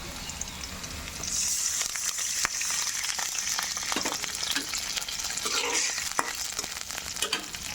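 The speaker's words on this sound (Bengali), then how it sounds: "এখন আমি পানি দিয়ে দেব একটু" Water added to a pan of fried onions and green chillies sets off a loud, steady sizzle and hiss that carries on for several seconds, with a few sharp spatters and stirring scrapes.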